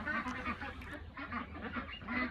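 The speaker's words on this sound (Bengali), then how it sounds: "এটা ওই পিকিং স্টার 13 হাঁসটা অল্প করে খাদ্য খেলেন আছে" A flock of Peking Star 13 ducks quacks in repeated nasal calls close by, the calls overlapping in a steady chatter with no voices.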